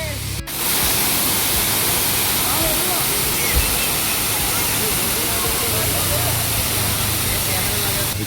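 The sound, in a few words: waterfall swollen by monsoon rain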